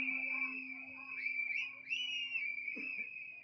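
Crowd whistling at a political party meeting in Neelankarai, a steady shrill whistle tone held throughout with brief rising whistle sweeps over a faint background din, fairly loud and continuous.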